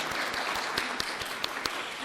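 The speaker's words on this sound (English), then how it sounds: "let's give Aaron a hand of applause" Congregation applauding during a church anniversary service, steady crowd clapping with a few sharper individual claps standing out near the end, filling the whole moment without talk.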